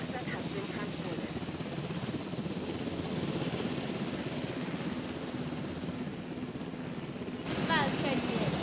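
Steady whirring helicopter rotor drone in the video game Jurassic World Evolution fills the whole stretch, a constant mechanical roar with a slight swell near the end.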